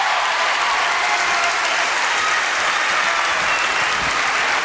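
A television studio audience breaks into loud, dense applause for a show's hosts, continuous clapping that stays strong for the whole stretch.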